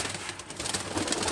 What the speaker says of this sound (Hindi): ये सब उड़ाई वाले कबूतर है